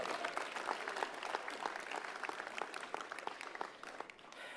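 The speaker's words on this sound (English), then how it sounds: "Give him a round of applause." A crowd applauds steadily, dense clapping filling the room, tapering off slightly toward the end.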